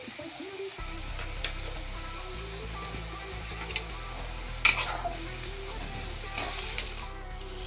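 Vegetables for pulao frying in a pan with salt and ground spices, a soft continuous sizzle with occasional stirring clatter over a low steady hum.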